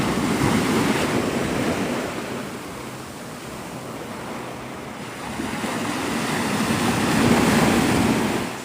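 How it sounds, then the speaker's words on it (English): Ocean surf at Navarre Beach, Florida, rolls in as a broad, steady wash of waves close by, swelling and easing over several seconds, with wind buffeting the microphone and no talking. "We're on a beach."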